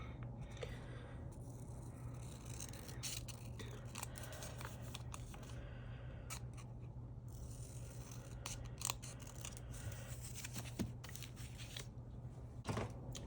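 Scissors trim the paper edges of a journal page in a quiet room, giving a string of soft, close snips with light rustling of paper between the cuts.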